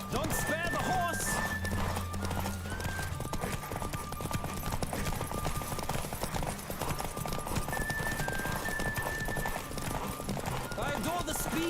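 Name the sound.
horse galloping, video game The Witcher 3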